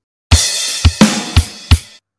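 Real drum kit played at standard tempo: five sharp, close hits with booming kick and crisp snare and cymbal wash, spaced in a short, evenly driving pattern with quick decays, no voices.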